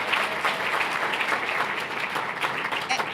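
An audience in a room at the Last Gadget Standing final vote claps for about three seconds, a steady, even patter heard at moderate distance with no talking over it.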